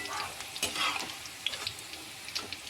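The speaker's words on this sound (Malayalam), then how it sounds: "അപ്പോൾ നമുക്കത് കോരിയെടുക്കാം." Fried okra (vendakka) scooped out of hot oil, with bubbling sizzle, scraping of a slotted spoon and light splashes, close and fairly loud, no talking.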